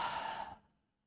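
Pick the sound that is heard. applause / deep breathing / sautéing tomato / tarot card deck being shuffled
deep breathing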